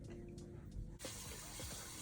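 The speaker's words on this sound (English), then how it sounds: "So I'm gonna wet my hair in the sink." Tap water runs into a sink to wet hair, a continuous hiss of flow that brightens and grows fuller partway through.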